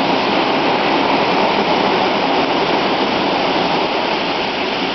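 Waterfall at a campsite near Trujillo, a loud, steady broadband rush of falling water, close and constant for the whole stretch, with no voices over it.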